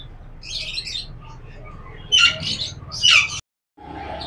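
Caged birds, including English finches, chirp and squawk at the Sunday bird market in Rasheedabad, Multan. Sharp tweets come in irregular bursts over low market background noise, with a brief moment of silence near the end.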